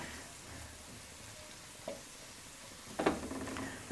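Leeks and potatoes sauté in a hot pan for Irish quesadillas, a soft steady sizzle with a few stirring scrapes near the end, quiet and without talk.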